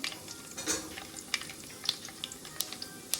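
Bay leaf goes into hot oil in a frying pan for vangi bath, with a close crackling sizzle, light stirring and several sharp spatula clinks on the pan.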